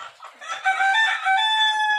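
A free-range village chicken rooster crows close by in a long, drawn-out call, preceded by a few short clucks; clear and loud with a quiet background.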